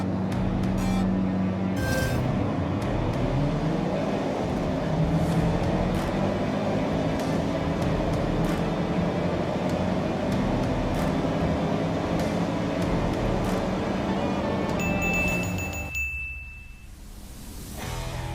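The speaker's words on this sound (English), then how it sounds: "So let's start with a classic drag race." Hatchback cars drag racing in the Forza Horizon video game, several engines roaring together and climbing through gears in a continuous loud blur, with a bright ding near the end as the roar cuts off abruptly.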